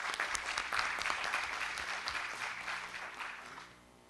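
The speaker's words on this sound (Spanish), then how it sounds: "Un aplauso, por favor, para nuestro expositor." Applause from a conference audience for a speaker at a judges' training session on criminal enforcement and intellectual property protection, a steady wash of many hands clapping that tapers off over about four seconds.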